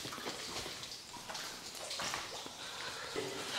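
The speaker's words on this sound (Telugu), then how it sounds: "అన్ని వాటర్ డ్రాప్లెట్ సౌండ్ వినిపిస్తున్నాయి మీకు" Water droplets falling and dripping inside a cave, a faint, diffuse hiss of scattered drips and splashes with soft echo, steady and quiet throughout.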